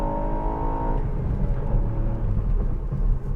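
A Ford Puma ST engine pulls hard while driving, a loud close throaty drone whose rising tone drops away as the driver shifts down a gear, continuing as a rumbling roar.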